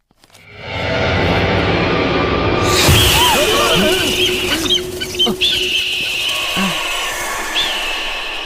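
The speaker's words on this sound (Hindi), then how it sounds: "कोई पक्षी है" A bird calls loudly and near in a South Indian horror film, with clucking, fowl-like cries that repeat over a dense, dramatic background.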